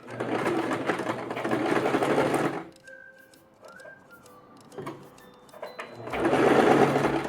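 Sewing machine stitching a crop top seam, a loud, fast mechanical whir that runs for a few seconds, pauses during a quieter stretch with faint tones, then starts up again near the end.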